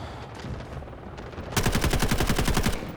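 Rapid automatic gunfire in the shooter game Delta Force Hawk Ops, loud close bursts kicking in after a muffled opening and rattling steadily to the end.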